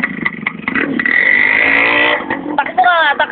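A motorcycle engine revs nearby in rising and falling whines, with voices chattering over it through much of the sound.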